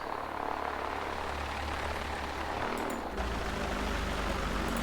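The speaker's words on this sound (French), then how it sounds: "On s'engage et on va décoller." A propeller airplane in the X-Plane flight simulator taxis toward takeoff, its engine a steady loud drone with a low rumble that shifts slightly partway through, with no talking.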